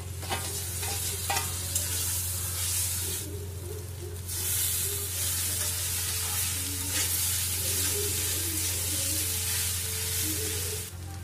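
Potatoes fry in a pan with cumin powder, turmeric powder, green chilli paste and red chilli powder, giving a steady close sizzle broken by scraping stirs, with no talk.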